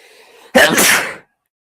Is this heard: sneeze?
yes